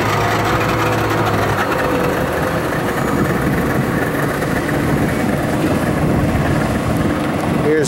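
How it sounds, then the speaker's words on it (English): A 2008 275 Tournament boat with a single 350 engine runs at full throttle, a loud, steady engine roar with rushing water that holds throughout while a voice talks over it. "Here's Gary opening her up right there"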